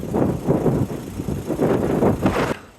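Gusty wind in the Welsh mountains near Tryfan buffets the microphone in rough, rumbling bursts that swell and fade every half second or so. It is close and fairly loud, with no voices.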